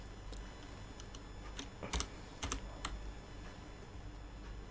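Typing on a computer keyboard during Python coding, with soft, scattered keystroke clicks heard close but quiet, including a few sharper taps in small bursts over a faint background hiss.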